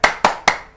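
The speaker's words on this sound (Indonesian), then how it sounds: "Tepuk semangat." A school class claps in unison in a rhythmic spirit clap: three sharp, loud, evenly spaced claps close by, each with a short ringing decay.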